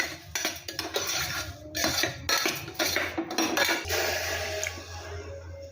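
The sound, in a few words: stirring millets and rice with ghee in cooker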